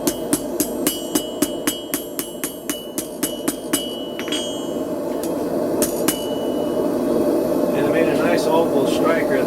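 A hammer strikes a steel flint-and-steel striker flat on an anvil in a quick, even run of sharp ringing blows, then a few scattered taps, over a steady background hum.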